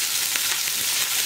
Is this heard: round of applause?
no